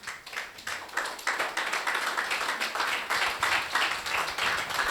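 A church congregation applauding after a sermon, many hands clapping in a dense, moderately distant burst that builds and holds steadily for several seconds.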